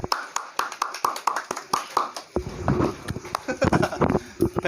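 Scattered hand claps from a small group in an Indonesian classroom-style gathering on empathic communication, sharp and irregular at first, then thinning into a few stray claps beneath talking voices.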